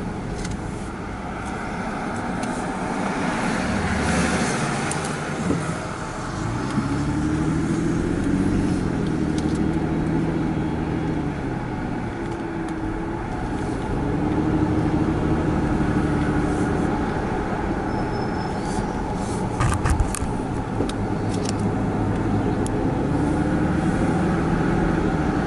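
Cars on the winding mountain stretch of US Highway 129, the Tail of the Dragon, with a steady engine and road drone from inside a moving vehicle, rising and falling as it works through curves.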